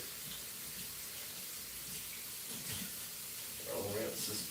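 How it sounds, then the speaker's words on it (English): A kitchen tap runs steadily while frosting is rinsed off a cake-decorating tool, a continuous watery hiss at close range with a soft splashy rise near the end. "I'm going to rinse the pink off of here real quick"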